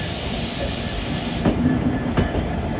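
A train arriving at Guwahati railway station in Assam rumbles steadily on the rails, joined by two short bursts of squeal or hiss near the end.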